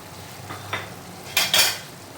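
Chicken with ginger-garlic paste, black pepper, salt and crushed red chilli fries in a pan with a soft sizzle, punctuated by a few sharp clinks and scrapes of a utensil against the pan.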